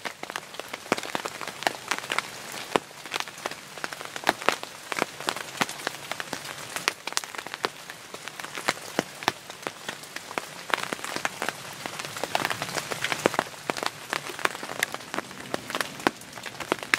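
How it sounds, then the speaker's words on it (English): Rain patters steadily on the roof of a hunting shooting house beside a food plot, a dense, close crackle of drops with irregular louder taps, continuing alone without talk. "listen to the rain hit on top of my shooting house here"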